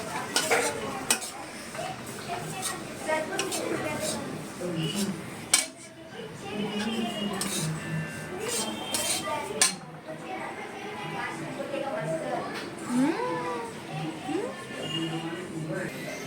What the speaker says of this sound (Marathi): थोडेसे असं लालसर तीळ आता भाजून घेऊया।